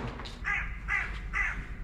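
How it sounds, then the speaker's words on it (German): A crow caws three times in an evenly spaced, harsh series, fairly close and alone over faint background noise. "Lacht er mich gerade aus, dieser Vogel?"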